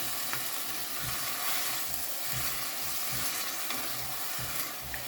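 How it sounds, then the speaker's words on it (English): Crushed tomato sauce sputters and bubbles in a pan for a vegan cauliflower curry, a steady close sizzle with soft irregular pops throughout and no talking. "the tomato sauce is boiled down and you can see it starting to like sputter"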